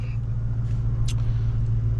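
A car's engine idling, a steady low rumble close by with a couple of faint clicks on top and no one talking.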